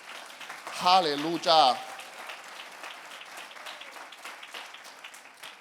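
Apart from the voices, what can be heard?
congregation applauding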